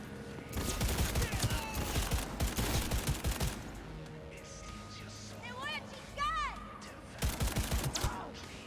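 Rapid bursts of gunfire from an overpowered gun in Cyberpunk 2077, loud and dense over the first few seconds, then a quieter stretch with chirpy electronic effects before a final short burst; speech murmurs appear in the mix.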